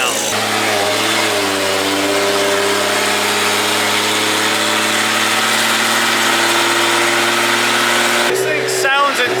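Modified Toyota Supra engine idling after warming up, a loud steady rumbling drone close by with a brief blip near the end and voices talking over it.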